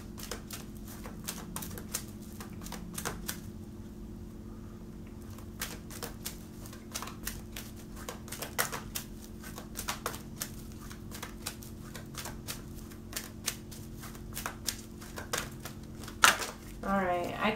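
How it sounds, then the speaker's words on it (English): Tarot cards riffled and shuffled in dense, rapid bursts of crisp flicking clicks throughout, with a sharper clatter near the end as the deck drops, over a steady low hum. "I keep dropping the whole deck."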